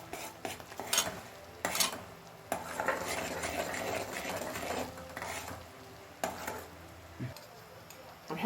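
A spoon stirs sugar syrup in a pan while Egyptian Mawlid sweets are being made, giving intermittent soft scrapes and clinks against the metal, faint and close, with a low sizzle beneath.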